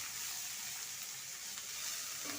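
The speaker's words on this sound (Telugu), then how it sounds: "హైలో పెట్టకుండా సిమ్లో పెట్టి వేపుకోండి." Cabbage fries in a pan over a low flame, giving a steady, soft, continuous sizzle with no voices.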